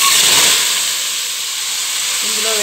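Tempering seeds and chopped drumstick, bottle gourd, tomato and green chilli sizzling in hot oil for sambar, a loud steady hiss that holds throughout, with a short low tone near the end.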